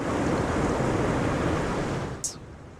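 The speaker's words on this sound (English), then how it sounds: "The sea was roaring like a hungry lion." Stormy sea waves roaring in a continuous, broad rumbling wash, loud and close, easing slightly near the end where a brief sharp high sound cuts in.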